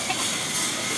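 Minced pork with holy basil sizzling hot in a pan, a dense, steady hiss that runs unbroken through the whole brief moment.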